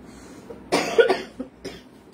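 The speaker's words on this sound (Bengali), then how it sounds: "আমার কাশি শুরু হয়ে গেছে," A person with a sore throat coughs, a couple of close, harsh bursts followed by smaller throat-clearing sounds in a quiet room, with no talking.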